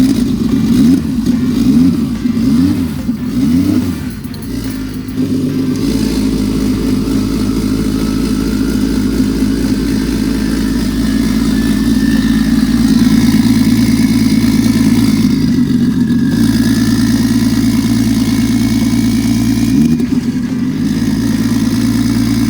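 A Nissan RB30DET turbocharged straight-six car engine runs loudly and steadily, revving in repeated rising-and-falling sweeps early on, then holding a strong drone with a couple of brief blips near the end.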